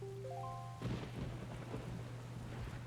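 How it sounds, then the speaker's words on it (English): Steady rain pours with a low rolling rumble of thunder over a cursed, dark-clouded island in Zelda: Wind Waker, a brief game chime fading as the storm continues alone. "this place suffers under dark clouds and rain"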